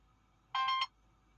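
A mobile phone gives one short, bright electronic ring burst, about a third of a second long, close by in an otherwise quiet room.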